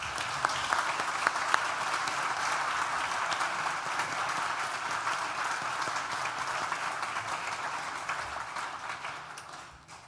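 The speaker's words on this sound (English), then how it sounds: "Graduands, will you please join me in a round of applause for all of those who've helped you" Sustained applause from a large graduation ceremony audience honoring helpers at an NTU School of Social Sciences ceremony, a dense even wash of clapping with a few sharper claps, fading slightly at the end.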